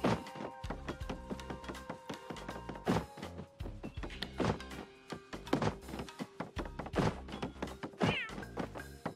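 A cat meows repeatedly in Paper Mario The Origami King on Nintendo Switch, several distinct, fairly loud calls spread across the stretch over game music and light thuds.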